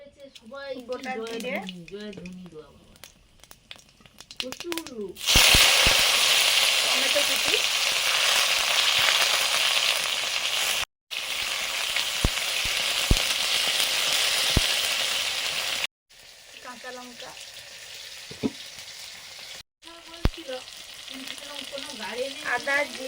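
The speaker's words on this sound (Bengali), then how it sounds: "দেখো এবার ভালো এসেছে ফোড়ন ছোলার ডালে" Whole garam masala, dried red chillies and bay leaves crackle in hot oil as a tempering for chana dal, a loud, dense sizzle that bursts in mid-way. People talk before and after it.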